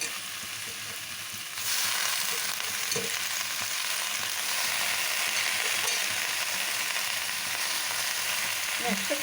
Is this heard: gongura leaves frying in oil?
yes